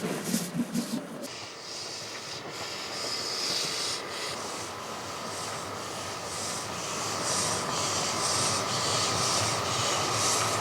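A Kriegslok steam locomotive runs tender first up a steep bank on a winter branch line in Austria, a continuous rumbling, hissing rail roar that builds steadily, with a few sharp knocks at the start.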